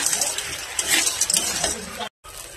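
Pasta fries in a pan while being stirred, giving a close sizzle with quick scraping strokes and light clinks of the utensil against the pan, then a brief cut to silence near the end.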